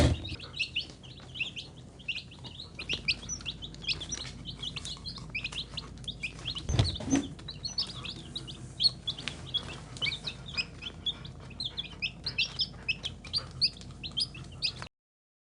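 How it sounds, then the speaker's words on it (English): Baby chicks on a homestead chirp in quick, high peeps, many overlapping calls from close by, continuing steadily with no talking. "Do you love your chickie sisters?"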